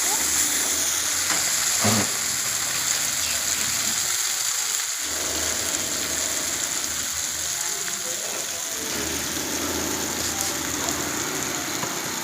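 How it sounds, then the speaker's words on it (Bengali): Spices sautéing in a pan for a Bengali katla fish dish, a continuous close sizzle with stirring scrapes and clicks, some speech mixed in. "কষিয়ে মশলাগুলোকে"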